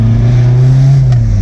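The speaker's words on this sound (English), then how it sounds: "Okay, engine started." A Volkswagen Passat B3 engine idles close and steady with a deep, even hum and no voices over it.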